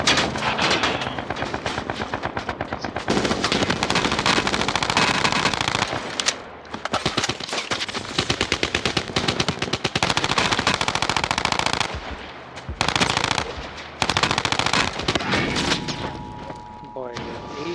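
Sustained machine gun fire in a video game rattles loudly and almost without a break, with short pauses between long bursts and a voice talking faintly underneath.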